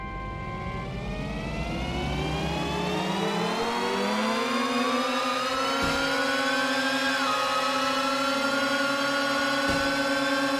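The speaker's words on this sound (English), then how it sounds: "Now that we've got some gas engines on the car" A gas-engined car in the Screw Drivers game accelerating steadily, its engine whine climbing smoothly in pitch over several seconds then holding a high, loud drone with a brief dip midway.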